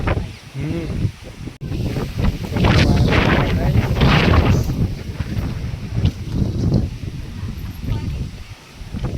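Strong storm wind over a farm field roars and buffets the microphone in heavy gusts, swelling to a loud rushing peak and then easing off unevenly.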